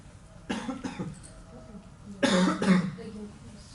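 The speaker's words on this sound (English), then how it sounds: "there's somebody coughing really loud at the back" Two loud bursts of coughing, a short pair followed by a harsher, heavier fit, ringing out close by in an otherwise quiet room.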